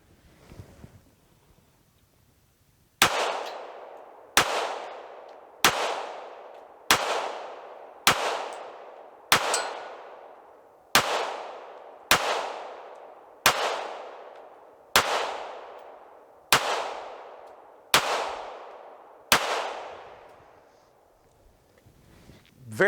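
An FN Five-seveN pistol fires about fourteen loud, evenly spaced shots outdoors, each sharp crack trailing into a long rolling echo, with a faint rumble of wind before the first shot.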